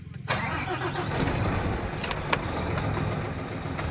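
An Isuzu 6UZ1 diesel truck engine with a check-engine fault and low-power problem cranks and catches after a brief pause, then settles into a loud, steady close-up rumble.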